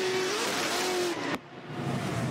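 A Formula D drift race car's engine drones steadily at a distance, then briefly dips as it decelerates before the broad engine and tire noise returns, fairly faint overall.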